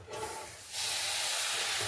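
Marinated quail hitting a hot pan for tandoori, a sudden loud hiss of sizzling that starts sharply and holds steady and close, with no talking.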